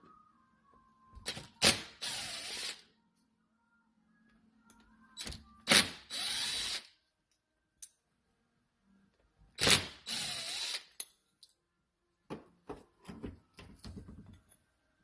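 A Honda N600/Z600 carburetor is taken apart with a number 2 Phillips screwdriver, giving several short bursts of ratcheting, clicking mechanical noise split by quiet pauses, close and fairly faint, with no talk.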